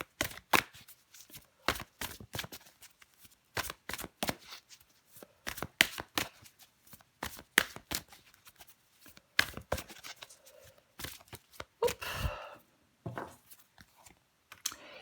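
Tarot cards being shuffled and drawn for a Virgo reading, a run of crisp close-up flicks, slaps and riffling clicks in irregular clusters at moderate level, with no talk.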